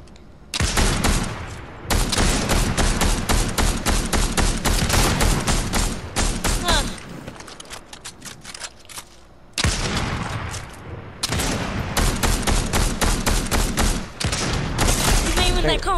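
Gunfire in the video game Fortnite, loud and nearly continuous, with rapid bursts of shots and brief pauses between volleys.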